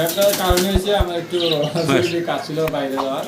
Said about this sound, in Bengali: কবুতরের ভিতরে যাই হোক অনেক কবুতর আছে